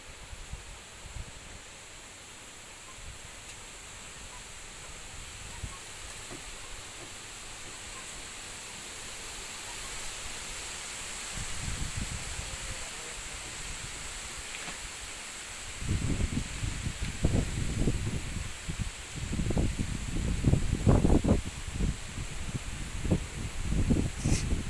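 Wind sweeping through coconut plants on a farm on a windy day, a steady broad rustling hiss that swells into louder, gusty bursts of thrashing fronds in the second half, with no voices.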